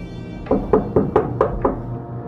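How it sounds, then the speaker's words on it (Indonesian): Someone knocks on a door from outside at night: six firm, hollow knocks in an even, quick rhythm, fairly close and clear against a quiet room. "Terdengar suara pintu diketuk dari luar."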